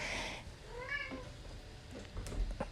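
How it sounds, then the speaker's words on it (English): A cat meows once near the middle, moderately loud and close, rising and falling, over a faint background hum with a few soft indoor noises. "this cat that keeps meowing in the background"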